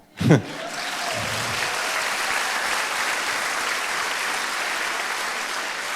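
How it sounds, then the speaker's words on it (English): An opening-night film festival audience breaks into loud, sustained applause after a brief sharp sound at the start, a dense, even wash of many hands clapping that continues without fading. "And clap loudly so those people through time know that they were wrong."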